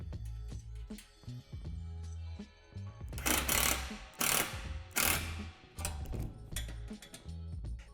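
Ratcheting hardware on a truss rod of an 8 by 15 foot plastic outdoor storage shed clicks steadily at close range, with rapid pawl ticks that swell into louder bursts of tightening.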